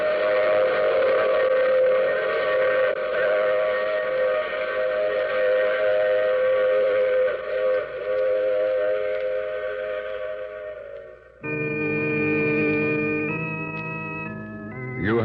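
Train sound effect from an old radio drama: a loud, sustained whistle-like rumble of a running train that cuts off near the end and gives way to a sharper, higher steam whistle tone.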